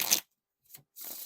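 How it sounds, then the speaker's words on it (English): Standard Cardistry-Con playing cards by Art of Play being riffle and bridge shuffled: three short, crisp papery bursts close by, separated by silence, with no talking. "But they still riffle and bridge shuffle decently."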